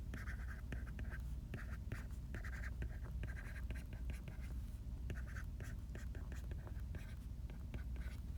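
Pen scratches across paper in short repeated strokes while organic chemistry steps are written out, close and quiet, with faint whispery breath and low voices beneath.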